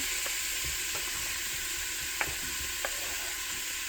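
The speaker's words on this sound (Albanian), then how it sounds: "Unë po I hedh tani këto qepët." Chopped onions frying in a large pot for a traditional veal tasqebap, giving a steady close sizzle with a few soft stirring knocks and no talk.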